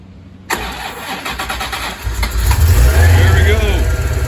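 Paxton-supercharged C4 Corvette with a ZZ3 5.7 TPI engine and Edelbrock High Flo parts, starting for the first time: a short crank catches into a loud, close, rumbling idle that swells with throttle.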